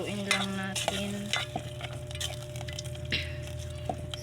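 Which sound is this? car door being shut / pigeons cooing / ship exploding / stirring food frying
stirring food frying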